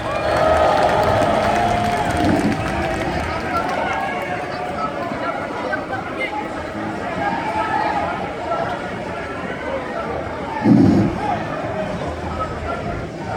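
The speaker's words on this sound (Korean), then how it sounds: "여러분 환영의 큰 박수를 부탁드립니다." Outdoor crowd at a Korean War anniversary memorial event applauding and cheering to welcome a retired four-star army general, a steady broad wash of clapping mixed with crowd murmur and voices, swelling briefly near the end.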